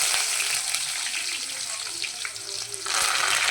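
Loud, continuous sizzling of onions frying in hot oil, a dense crackling hiss that briefly dips then surges again.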